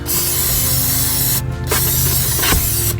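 Aerosol brake cleaner hisses loudly and steadily in a continuous spray onto a greasy RV part, with brief breaks and faint metallic clicks, close by.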